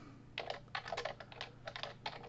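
Quick, rapid keystrokes clatter on a computer keyboard while typing data values in R, in an uneven rhythm, close and fairly quiet.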